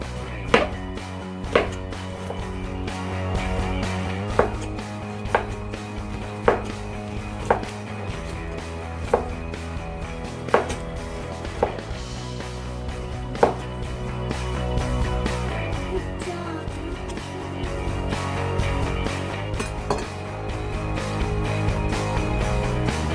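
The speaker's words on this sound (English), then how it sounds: "Now I'll cut up my onions." A knife chops onions on a board in a steady series of sharp, close knocks, some strokes spaced a second or two apart, with a low tonal hum in the background and no talking.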